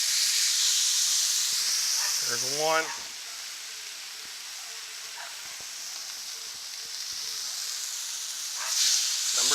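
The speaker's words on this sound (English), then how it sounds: "Listen to that sizzle, guys." Skirt steaks sizzle on a screaming-hot Blackstone griddle, a steady bright hiss that swells as meat hits the surface, while someone talks briefly over the cooking.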